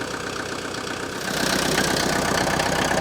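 Steady engine idle of a Mercedes T2 van with a low rumbling pulse that grows slightly louder partway through, close by, with no talking.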